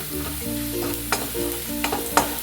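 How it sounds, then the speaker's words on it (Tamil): Garlic frying in oil in a pan for a kovakkai fry, a continuous close sizzle with stirring scrapes and a few light spoon knocks. "இப்போ வந்து பூண்டு போட்டிருக்கேங்க. பூண்டு நல்லா வதங்கட்டுங்க."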